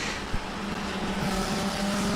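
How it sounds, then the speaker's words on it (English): Race car engine running steadily during an endurance race at Virginia International Raceway, a continuous loud drone with a brief blip near the start suggesting another car's downshift in the background. "I like when you can hear another car downshifting"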